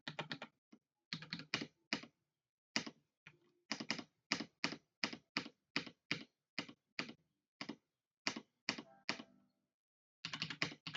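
Bursts of computer keyboard typing, with quick runs of key clicks separated by short pauses while a 2D turn-based game is built in Godot. The typing is close and clear with no talk.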